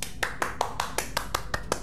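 Nine sharp hand claps come in a quick, even rhythm about five per second. They are close and moderately loud against a faint background hum.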